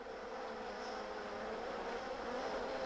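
Honey bees buzz in a steady, dense drone close by, with a constant hum from many wings holding level throughout and no voices.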